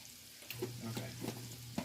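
Minced garlic added to cooked-down onions sizzles quietly in a pan for a chicken dish, a soft, close crackle with light stirring and faint voices nearby.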